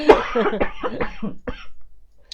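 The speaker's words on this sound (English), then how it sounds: "I'm going to have to cough again" Several harsh, throaty coughs from someone who has inhaled beard trimmings, in a quick irregular burst, close and loud, trailing off into quieter hacking.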